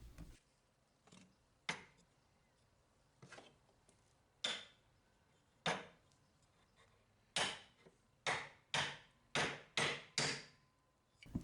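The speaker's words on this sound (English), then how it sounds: "then we'll beat the chisel or the gouge into our handle" A chisel gouge being hammered into a wooden handle: a series of sharp, ringing strikes, sparse at first and then quickening into a rapid run of loud blows, close by with no talk.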